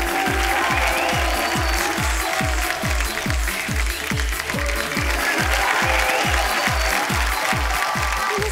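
Studio audience on a Hindi comedy talk show applauds the arrival of actor-director Mahesh Manjrekar and actress Medha Manjrekar, a loud, steady wall of clapping with faint cheering throughout.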